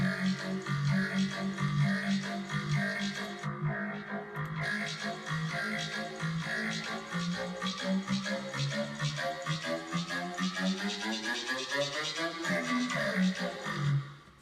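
A robotic, synthesized vocal line with a buzzy vocoder character sings a phrase over a dense electronic music backing, steady and loud throughout.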